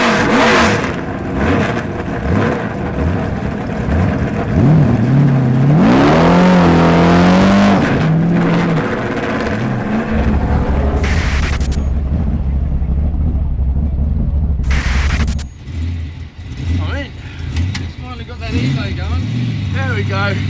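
A 1000bhp V8 Chevy Fastback drag car sits close by, its engine rumbling and then revving up and down in loud rising and falling sweeps before settling to a throaty idle, with people talking over it.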